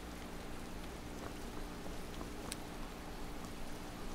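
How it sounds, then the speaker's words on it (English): Rain in the Skyrim video game falls as a soft, steady hiss of drops with faint scattered patters, quiet and continuous throughout. "We got a little rain going on today."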